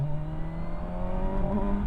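Kawasaki Versys 1000SE motorcycle engine under way downhill, a steady, close engine drone that holds its pitch with a slight shift near the end as the quick-shifter changes gear, with no talk over it.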